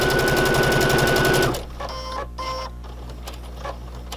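A sewing machine stitches a seam in a fast, loud, close run that stops after about a second and a half, leaving quieter handling noises.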